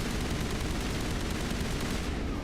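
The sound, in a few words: gunfire in the video game Mass Effect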